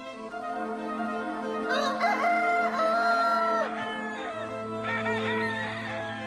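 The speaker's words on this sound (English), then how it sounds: "It's the roosters." Several roosters crowing in overlapping, drawn-out calls, loud and near, with no talk.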